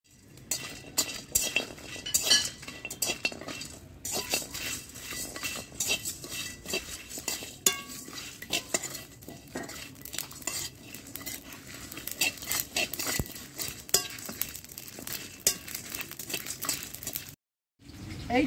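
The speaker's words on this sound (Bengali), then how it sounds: "এই শুকনো মশলাটা ভেজে নেওয়া হবে শুকনো কড়াতে" Dry spices tossed and stirred in a dry karahi for an oil-free country chicken curry, giving steady scraping, rattling and clinking of a metal spoon against the pan, close and continuous, with a brief silent gap near the end.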